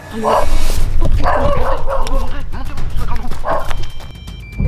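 A dog barks and yips loudly in repeated bursts, close by, amid scuffling and shouting voices.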